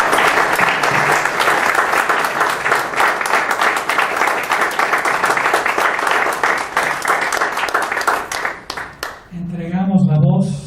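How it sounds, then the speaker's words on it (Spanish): An audience at a Mexican military studies book event gives the general sustained, dense applause for about nine seconds, then it fades out and a voice begins speaking near the end. "Un aplauso al general."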